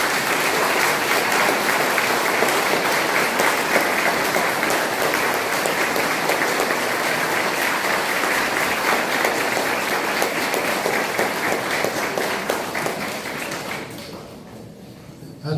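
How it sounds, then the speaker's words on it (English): An audience at a county sheriff's debate applauds in a dense, steady round of clapping that carries for about thirteen seconds before tapering off at the end. "let's give them another big round of applause"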